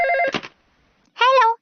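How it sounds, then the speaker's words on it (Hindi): A telephone in a Shinchan cartoon episode rings in two short electronic trills separated by a pause, close and clear. "फोन बज रहा है।"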